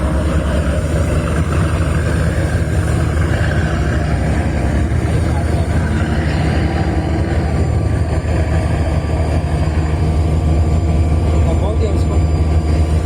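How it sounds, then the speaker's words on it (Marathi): Pilot boat engine at Rajai port in Iran, a loud continuous low rumbling drone that holds steady throughout with a broad noisy wash above it. "ही पायलट बोट आहे"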